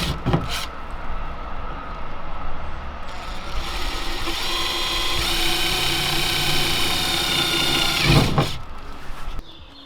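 A power tool cuts through plywood during a Fiat Ducato campervan self-build, a loud continuous whining grind lasting several seconds between short bursts, close by with no speech.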